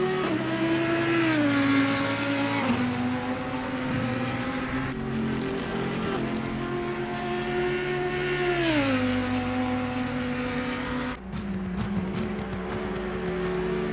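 Race cars lap at Bathurst, engines droning loudly and continuously, with pitch rising and falling as they pass and shift gears, several cars overlapping.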